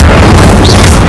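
A single loud, booming burst of fire from the Incendio spell in Hogwarts Legacy, a short, heavy blast filling the whole moment.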